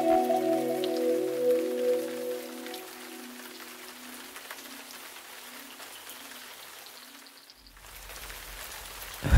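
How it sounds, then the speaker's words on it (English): Steady rain falls outdoors as a continuous hiss, with a low droning tone and sustained notes running under it for the first few seconds before dropping out, then a darker low rumble near the end. "let's get out of this rain"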